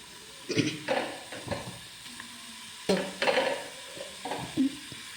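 Mango pieces are tipped into a pan on the stove and stirred, producing intermittent scraping and clinking strokes over a soft hiss, close and moderately loud, with no speech.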